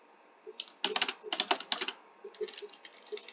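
Typing on a computer keyboard, close and fairly quiet, with bursts of quick key clicks separated by short pauses, with no talk.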